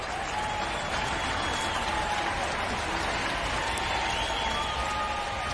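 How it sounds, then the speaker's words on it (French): Steady crowd applause in a radio advertisement, an even, continuous wash of clapping at moderate loudness with faint voices underneath. "Imaginez que chaque applaudissement soit un don."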